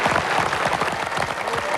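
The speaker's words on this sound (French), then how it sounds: "Quelques applaudissements pour nos 2 équipes." Studio audience applause on a 1990s French TV game show, a loud, dense, continuous patter of many hands clapping together for the two competing teams.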